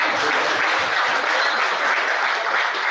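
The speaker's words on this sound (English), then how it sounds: "Give them a round of applause." A crowd at a high school Hall of Fame induction ceremony applauds its inductees, producing a loud, even, unbroken roar of clapping that holds steady from start to finish without any speech over it.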